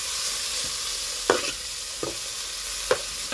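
Onion, ginger and garlic sauté in a pan with a steady soft sizzle, while a spoon scrapes and stirs in several brief, distinct strokes close by. A beef liver pepper fry is being prepared.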